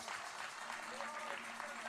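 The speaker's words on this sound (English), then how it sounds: "give them a round of applause" Crowd applause at a PNM political public meeting in La Horquetta, a steady wash of clapping heard from a distance behind a faint amplified voice.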